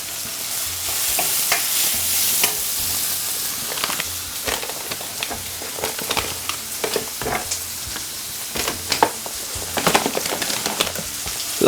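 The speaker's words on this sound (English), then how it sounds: "Now just make it fry for about 3 to 4 minutes." Corned beef seasoned with coarse pepper and paprika fries in a pan, a steady sizzle overlaid with frequent scraping and tapping strokes of a spoon stirring it.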